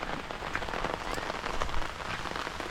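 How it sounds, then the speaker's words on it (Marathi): Heavy rain falls on a farm, a dense, steady hiss of drops hitting surfaces close around, with no voices over it. "रिमझिम पावसाचं वातावरण रूपांतर आता जोरदार पावसामध्ये होत आहे"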